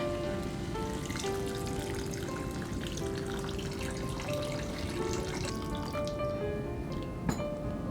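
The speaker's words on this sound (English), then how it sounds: "now we'll add some water to it." Water pours into a cooking pan of bunny chow curry with a steady splashing and gurgling, faint sizzle underneath, and a small clink near the end.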